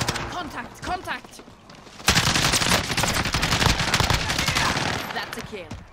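AUG rifle fire in Call of Duty: Warzone, a heavy SMG-style weapon with noticeable recoil, first in short bursts and then a loud sustained stream of rapid shots, with someone talking over the opening seconds.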